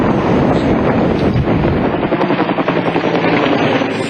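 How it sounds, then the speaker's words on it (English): Helicopters and a sky crane flying low over a running bushfire in Australia, a loud, close rotor thudding with wind buffeting, its beat pulsing more clearly toward the end. "Helicopters and the sky crane buzzed through the smoke haze"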